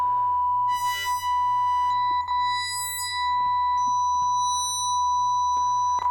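A Korg Minilogue XD synthesizer holding a plain sine wave tone, a steady pure pitch sustained throughout with faint bursts of brighter overtones as waveform folding is adjusted.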